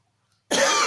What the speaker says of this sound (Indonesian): kemudian kita batukkan.